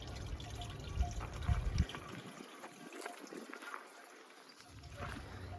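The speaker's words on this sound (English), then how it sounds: "If you hear all that water in the back, that's my fountain here." A garden fountain in a Central Texas yard keeps up a soft, continuous splash and trickle in the background, faint and steady, with some louder handling noise early on.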